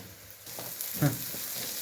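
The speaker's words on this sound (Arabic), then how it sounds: "هنزل بالجزر والفلفل بالشكل ده كده." Sliced carrots and peppers hit a hot pan and sizzle with a soft steady crackle, close by, with a brief louder burst as the vegetables go in.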